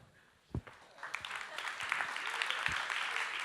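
Audience applause at a lecture hall talk, building from a few scattered claps into a steady wash of clapping that holds to the end.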